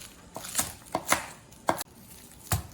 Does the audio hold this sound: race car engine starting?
no